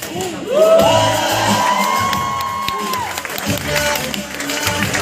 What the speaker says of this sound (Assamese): এইবাৰ নিজৰ বাবে হাত চাপৰি আৰু চিঞৰ এটা